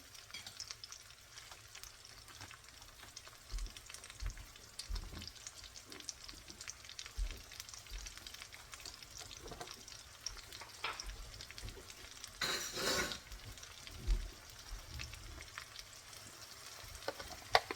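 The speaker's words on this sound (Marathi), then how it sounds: "हा चांगला फ्राय करून घ्यायचा आहे." Onions frying in a pan for pav bhaji, a continuous soft sizzle with occasional stirring scrapes and brief louder crackles, close and steady with no talk.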